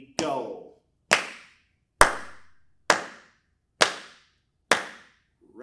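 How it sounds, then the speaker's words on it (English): Hands clap out a slow, even rhythm during a beginner baritone lesson, six crisp, loud claps spaced about a second apart with near silence between them. "let's clap the rhythm"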